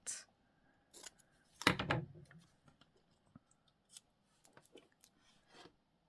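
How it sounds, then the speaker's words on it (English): Scissors snip through a paper label for a junk journal page: one strong, crisp cut followed by a few small scattered clicks and rustles of the paper, close and alone with no talk. "I normally like half labels, so I'm just going to cut it and see what I think of that."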